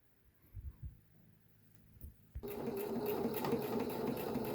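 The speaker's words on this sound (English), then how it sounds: "So I'm doing the hem of the other one, pants leg." Sewing machine running a straight stitch along the hem of a pajama pant leg, starting after a few soft handling thumps and then whirring steadily and close.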